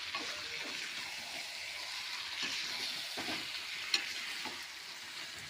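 Chicken and potato sautéing in a pot for a Bengali chicken curry, a soft continuous sizzle and hiss with faint scraping stirs and one sharp clink.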